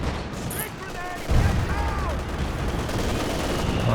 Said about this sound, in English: Some base howitzer fire coming in.